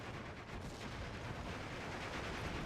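Artillery shells pounding Besatzung infantry in Steel Division 2: a dense, continuous roar of overlapping blasts and gunfire that stays loud and steady throughout, with no voices.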